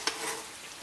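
French fries frying in hot oil make a brief, steady sizzling hiss with one small pop at the start, with no voices.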